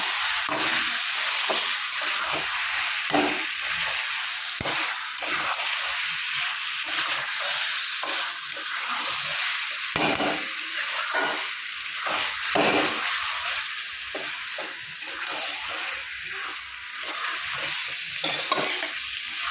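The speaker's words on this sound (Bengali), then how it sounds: "ভালো করে মশলা কষিয়ে নিয়েছি তেল ছেড়েও দিয়েছে" Ground chili, coriander and cumin sizzle in oil in a pan for a fish curry, a continuous loud frying hiss broken by repeated scraping stirs.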